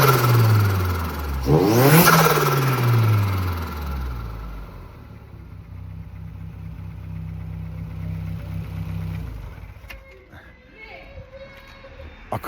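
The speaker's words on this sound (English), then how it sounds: "start the engine, and disturb the neighbours" A turbocharged 300bhp Vauxhall Corsa C VXR engine revs hard once, sweeping up and back down, then settles to a steady idle before cutting off, followed by a few quiet clicks.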